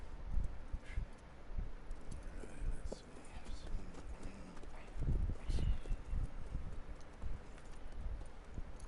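Horse hooves clip-clopping at a walk in Red Dead Redemption 2, soft irregular thuds close by under rustling and low background noise, with people talking.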